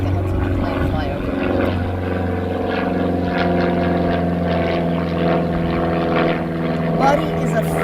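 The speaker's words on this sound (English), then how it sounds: "let's let the plane fly over" An airplane passing overhead at an animal sanctuary, a continuous droning engine hum with steady tonal bands that holds at a loud, even level throughout, while a person speaks intermittently over it.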